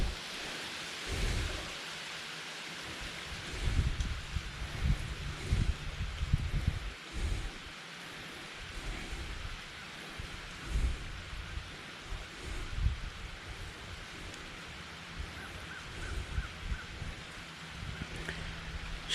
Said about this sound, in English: It was raining sideways.